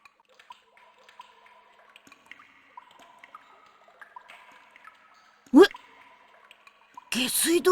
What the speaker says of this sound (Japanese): なんだこの水音は。